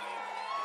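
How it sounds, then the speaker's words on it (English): A rally crowd at an outdoor political event cheering in a steady, dense roar of many voices, heard as a brief, moderately faint wash of shouting and whooping. "it sounds like an unbelievable crowd"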